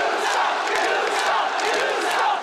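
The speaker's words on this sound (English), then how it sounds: "the crowd goes wild" A wrestling crowd at a WWE event in Shanghai roars and cheers continuously, a dense, loud wall of voices with no break.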